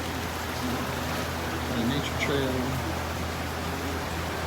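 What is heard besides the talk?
rain falling on Caladesi Island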